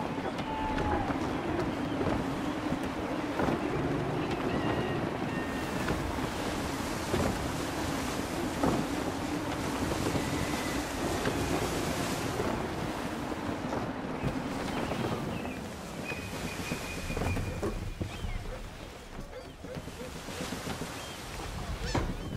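Gusty wind and rolling waves rush continuously around a sailing ship at sea in Assassin's Creed III, a dense, steady roar with occasional creaks and faint tonal calls.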